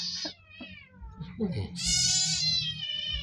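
A cat meows indoors, several short close calls followed by a longer, loud drawn-out meow, with someone speaking between them.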